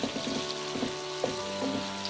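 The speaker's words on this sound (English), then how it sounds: "You can see that the onions are getting a little soft now, and I've broken them apart so they're each an individual ring." Onion rings, broken apart and softening, fry in a pan over medium heat, giving a steady close sizzle with a few soft stirring clicks and bumps throughout.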